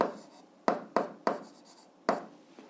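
Pen on paper writing out an eighth-grade algebra exercise with fractions, several short scratchy strokes in quick bursts with brief pauses between, close and quiet.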